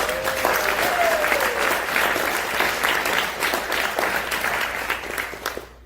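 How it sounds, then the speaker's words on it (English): Sustained audience applause filling a theater at a street theater event, a dense, even wash of clapping that holds steady for several seconds before tapering off at the end. "Let's have a round of applause for them."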